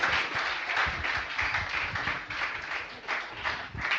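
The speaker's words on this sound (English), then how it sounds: "Can we just give one more round of applause for all the products?" An audience at a coding bootcamp demo day claps and cheers, a dense, sustained round of applause with no talking.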